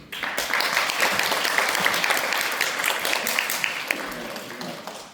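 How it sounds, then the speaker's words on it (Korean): Audience applause at an addiction recovery forum as a speaker is introduced: a full, steady wash of many hands clapping that swells early and holds, then gradually thins toward the end. "여러분 박수 부탁드리겠습니다"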